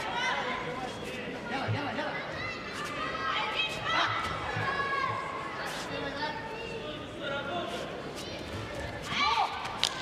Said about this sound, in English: the crowd enjoying this one